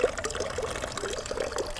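Water is poured for drinking in a quiet spot in an abandoned ghost town, giving a steady, close trickling pour with a gurgling rhythm and no voices.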